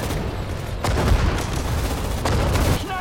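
Battlefield gunfire in the real-time strategy game Sudden Strike 4, dense rattling bursts with heavier booming shots layered over a constant loud rumble, continuous throughout.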